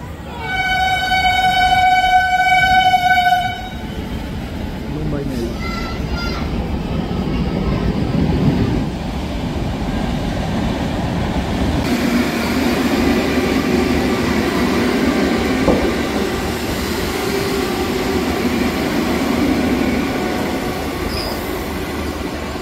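The Mumbai Mail rolls through Digha station at platform one in the evening, opening with a loud horn blast, then a long steady rumble and clatter of wheels with faint squeals and some voices nearby.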